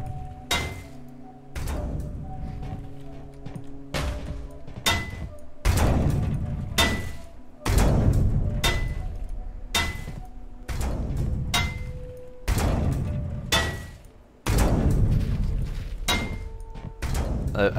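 A long-reach hammer repeatedly whacks scrap metal in Ship Graveyard Simulator 2, giving irregular heavy thuds and clanks, some loud and close, over a low background hum.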